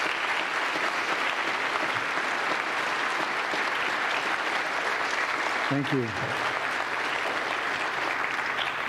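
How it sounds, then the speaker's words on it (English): An audience at a school Veterans Day ceremony at Waubonsie Valley claps in sustained, full applause. A voice briefly speaks partway through, then the clapping continues at an even level. "Please give them a round of applause."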